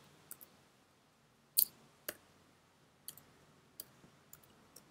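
Keys on a computer keyboard tap while code is typed, a handful of sparse, quiet, sharp clicks at irregular intervals with one slightly louder double click, close by against near silence.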